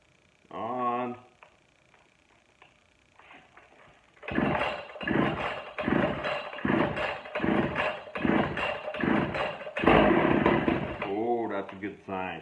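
A Pioneer 41 chainsaw with a freshly cleaned carburetor and the choke on is pulled twice, then fires and runs loud and close in a rapid, pulsing engine rhythm for about eight seconds before it cuts off.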